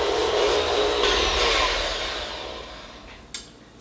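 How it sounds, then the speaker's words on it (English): A KitchenAid stand mixer creams butter and sugar with a steady, close motor whir that eases slightly in loudness, broken by one sharp knock near the end. "And I just make this in my KitchenAid."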